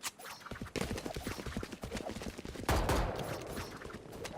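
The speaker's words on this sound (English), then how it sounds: "Lovely couple of shots from Jelena." Gunfire from a Rainbow Six Siege esports playoff match between G2 and SK, a rapid burst of sharp shots followed by further loud bursts and crackling impacts, dense and close, with a faint caster voice underneath.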